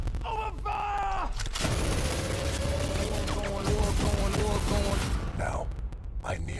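Gunfire and explosions from a video game trailer shown at Summer Game Fest 2022, dense, loud and continuous bursts under a deep narrating voice and orchestral score.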